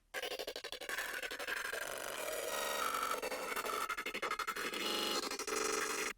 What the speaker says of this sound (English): resulting in some crazy synth sounds like this